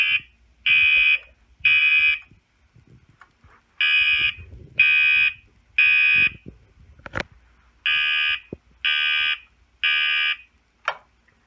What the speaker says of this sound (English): And that was code 3 mechanical horn.